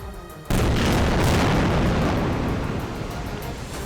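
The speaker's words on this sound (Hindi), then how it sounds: "एकदम शांत उस इलाके में अचानक एक जोरदार धमाका होता सुनाई दिया।" A loud explosion goes off suddenly in a village in Lebanon: a sharp, close blast that breaks a quiet background, followed by a long, dense rumble that slowly fades, with no voices.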